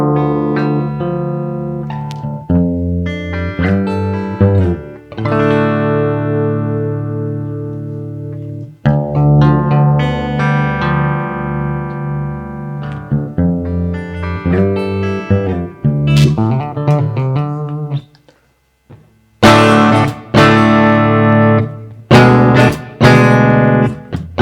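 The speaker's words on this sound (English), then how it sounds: "use the envelope follower to control the amount of distortion that we're getting in our signal" Electric guitar notes and chords ring out through a Eurorack modular setup, an envelope follower making their distortion swell and fade with how hard each is played, alone with no talking.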